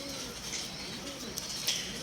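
Soft, low cooing of a black-faced female pigeon in a steady ambient background, faint and somewhat distant with light rustling.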